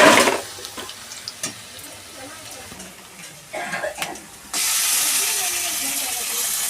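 Duck meat goes into a hot pan of fried onions in a village kitchen, first with scattered stirring clatter, then a sudden loud, sustained sizzling hiss that takes over once the meat hits the oil.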